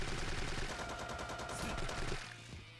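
A submachine-gun-style weapon in Yakuza 3 fires rapid continuous bursts, a dense rattling stream of shots that cuts off near the end, fairly quiet and alone.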